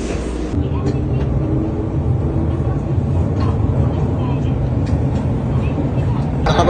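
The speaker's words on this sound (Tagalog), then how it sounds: "Yung sound kasi syempre nasa underground siya, hindi lumalabas, kaya maingay yung tunog ng train." Subway train running through an underground station in Japan, a loud continuous rumbling roar with rattling clatter, heard from inside the carriage, a voice speaking faintly underneath.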